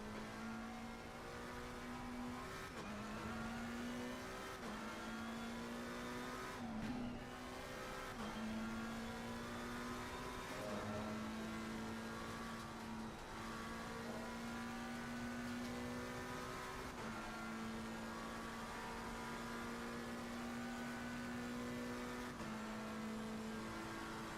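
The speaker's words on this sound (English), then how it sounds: "Let's take the McLaren out for a drive." A McLaren race car in a racing video game drives with its engine held at a steady high pitch, rising through the gears with short dips at each shift, sustained and continuous for over twenty seconds.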